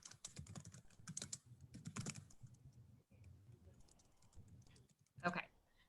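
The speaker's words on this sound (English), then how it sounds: "Sorry if you can hear my typing." Quick clicking keystrokes on a computer keyboard come in bursts and pauses, fairly close and moderately loud, with one sharper, louder clatter near the end.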